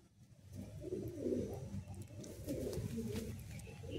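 Madrasi pigeons coo in a loft, a dense overlapping chorus of low, throaty calls that swells and holds steady close by.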